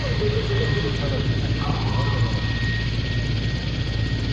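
A military helicopter prepares for takeoff during an international exercise, its engine and rotors giving a loud, steady, continuous roar that fills the whole stretch, with no clear change in pitch.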